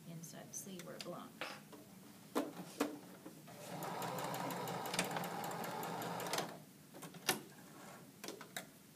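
Sewing machine stitching a small corner across a folded shirt cuff, running steadily for about three seconds mid-clip, with a person talking before and after.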